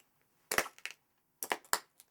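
Footsteps crushing shards of broken beer bottle glass, two pairs of sharp crunching steps with brief glassy crackles, close and isolated against silence.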